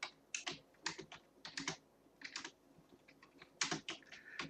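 Typing on a computer keyboard while entering text into a chart's text box, in close, crisp bursts of keystrokes with brief pauses between words, and no talking.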